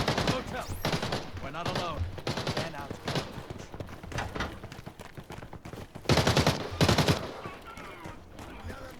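Gunfire in the video game Arena Breakout: scattered shots and short bursts under ongoing talk, with two louder, sharper volleys near the end.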